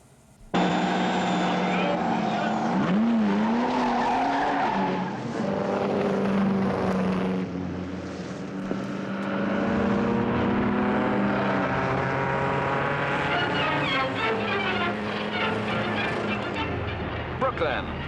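Speed cars race in the Gold Star Handicap, the final meeting of the season, their loud sustained engine whine rising and falling in pitch as they pass close by.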